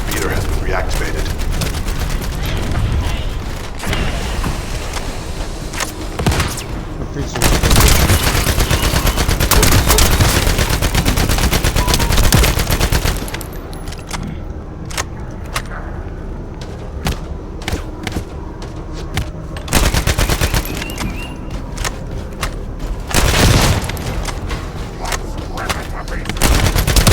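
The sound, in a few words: gunfire in the video game The First Descendant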